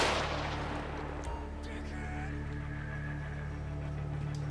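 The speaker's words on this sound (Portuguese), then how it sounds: "Os caras do exército estão atirando dali, mano." Gunfire from army soldiers in the GTA V zombies mod, sounding as a burst of distant shots at the start and then a steady low rumble with faint scattered pops.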